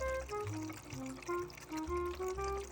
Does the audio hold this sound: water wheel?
yes